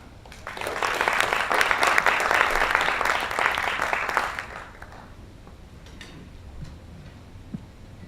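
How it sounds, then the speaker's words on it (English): A brief smattering of audience applause at a members' event, dense clapping for about four seconds that fades out, leaving quiet room tone with a few stray claps. "Thank you for that smattering of applause"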